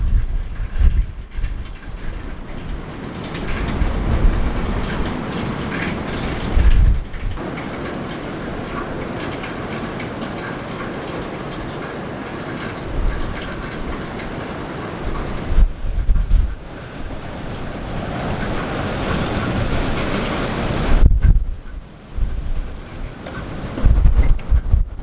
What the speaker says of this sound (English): we have like a massive storm going on right now and it's like howling and everything